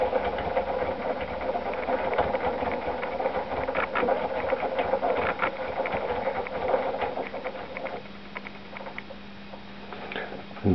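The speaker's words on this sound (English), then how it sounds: "and turn on the lathe." Lathe running steadily while rotary broaching a workpiece, producing a continuous close mechanical whir and rattling hum that eases toward the end, with no talking.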